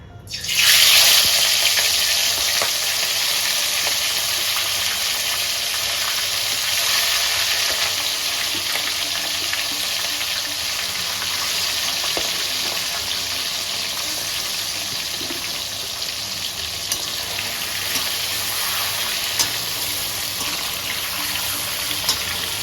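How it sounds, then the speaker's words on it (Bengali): Prawns drop into hot oil with a sudden loud sizzle that settles into continuous, even crackling and frying for over twenty seconds, close up with no talking. "তেল আমার গরম হয়ে গেছে, এরপর দেবো আমি চিংড়ি মাছগুলো।"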